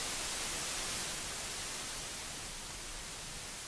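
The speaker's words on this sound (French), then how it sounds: "sur mon bruit blanc" White noise from the Analog synth passed through a 12 dB-per-octave low-pass filter, a steady dense hiss that stays constant and fairly loud throughout, with no voices.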